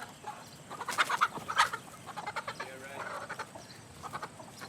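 Free-roaming chickens on the island of Kauai, several hens clucking and squawking in irregular bursts close by, with outdoor ambience and faint chirping behind.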